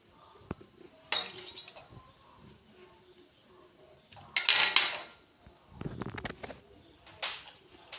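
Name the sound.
cutting a red banana with a knife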